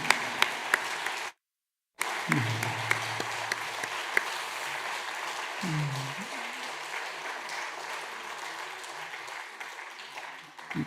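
Church congregation applauding during a Sunday worship service as guests leave the stage, moderate and steady after a brief gap, with low murmuring voices underneath.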